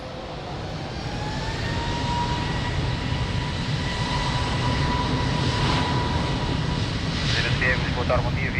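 Fixed-wing aircraft taking off from runway 02 at Lisbon Airport, its engine roar building steadily into a loud, continuous rumble with a sustained whine, heard alone throughout.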